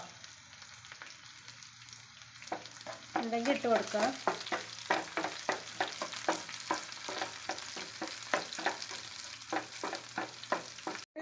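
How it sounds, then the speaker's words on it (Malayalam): Dried red chillies frying with softened onions in a pan, a soft background sizzle joined by a run of rhythmic stirring and scraping strokes, while a voice speaks briefly. "ഉള്ളി വഴന്നിട്ടുണ്ട് രണ്ട് വറ്റൽമുളക് ഇട്ട് കൊടുക്കുക"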